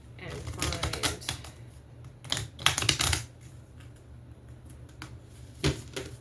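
Tarot cards being shuffled during a card reading: quiet papery riffles and taps come in several short bursts, with soft clicks and pauses between them, close and fairly faint, with no voice over them.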